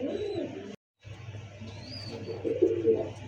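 A pair of Lal Khaki pigeons gives soft, low cooing close by, steady through the clip and briefly cut out, swelling louder toward the end.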